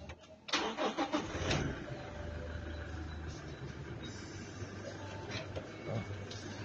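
A Toyota Innova engine cranks and catches in a loud burst, then settles into a steady low idle rumble that continues to the end, with no talk over it.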